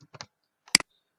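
A Ctrl G shortcut pressed on a computer keyboard: a few quick soft key taps followed by one sharper, louder double click, close and isolated in a quiet room.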